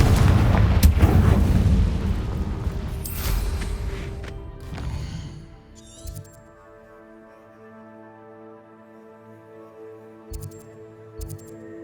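A Confringo fire spell blasts in Hogwarts Legacy, a loud booming explosive burst with crackling debris over the first five seconds, then decaying into a quieter sustained tonal hum with a few faint later thumps.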